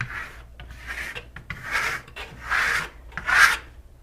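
A trowel scrapes shimmer stone plaster across a textured wall in repeated rasping strokes, about five rough passes of rising and falling loudness, close and with no talk.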